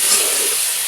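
Ground cumin, coriander and garam masala fry in a hot pan with a steady, loud, close sizzling hiss that holds evenly throughout.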